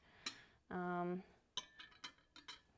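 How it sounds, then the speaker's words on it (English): Metal silverware is set down on a table while a plated dish is arranged for a food photo, giving a few light clinks and one longer ringing tone, close by and fairly quiet. "Silverware, flatware, I always like to add this if it's a plated dish."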